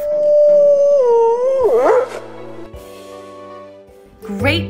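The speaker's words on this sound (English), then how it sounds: "wolf." Wolf howling in a forest, one long, loud, sustained howl that bends downward and wavers near the end, followed by quieter musical notes.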